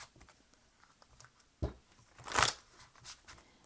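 Tarot cards being shuffled during a reading, a few soft papery riffles and slaps, with one brief louder burst near the middle, close and quiet with no talking.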